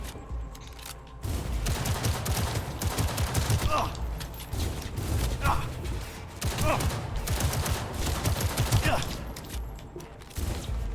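Gunfire in the video game Cyberpunk in Night City, with dense rapid shots and heavy rumbling combat that run for several seconds and ease off near the end.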